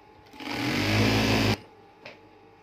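A Singer sewing machine runs one sustained overlocking burst of about a second along a sheet's edge, its motor whirring loud and close, then stops with a brief mechanical click afterward.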